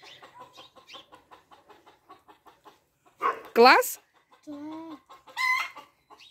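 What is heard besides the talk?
chicken clucking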